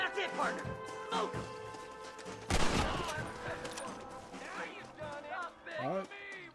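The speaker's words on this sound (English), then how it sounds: "I got a Winchester repeaty thingy" Winchester repeater rifle fire in a Red Dead Redemption shootout at a burning barn: a sharp loud crack with a burst of reports, surrounded by music and shouting voices.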